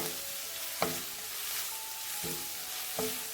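Green chilies sautéed gently in oil while cooking a colocasia stem thoran, a soft continuous sizzle with a few spaced knocks of a spatula against the pan, close up and without voices.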